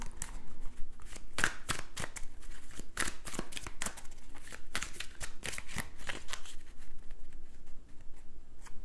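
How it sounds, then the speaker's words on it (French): Tarot cards are handled and covered in a series of crisp slaps and papery shuffles, close and busy, coming in quick irregular bursts throughout. "On va recouvrir les cartes."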